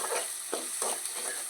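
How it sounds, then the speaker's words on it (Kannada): Chopped onion frying in oil in a pan for pav bhaji, a soft, steady sizzle with a few light stirring scrapes, quiet and close. "ಒಂದು ಸ್ವಲ್ಪ ಉಳ್ಳಾಗಡ್ಡಿ ಎಣ್ಣೆಗೆ ಒಂದು ಸ್ವಲ್ಪ ಕೆಂಪಾಗ ಕರೀರಿ"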